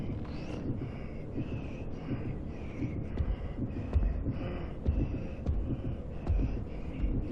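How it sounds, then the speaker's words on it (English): A slow, steady thumping heartbeat in the video game Little Nightmares pulses under a low hum, with faint higher tones drifting over it. "You can actually hear Six's heart beating, like the actual controller is thumping."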